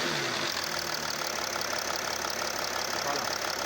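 A car engine runs steadily and loudly up close during a fault diagnosis, revving under throttle with a dense, continuous mechanical roar.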